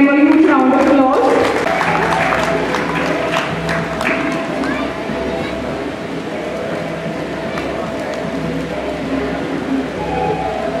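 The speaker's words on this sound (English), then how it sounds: "Audience, please give them a huge round of applause." Applause from an audience at a school centenary valedictory celebration, Shree Mallikarjun Vidyalaya in Char Rasta: a dense, steady wash of clapping and crowd noise that starts loud and eases slightly while continuing throughout.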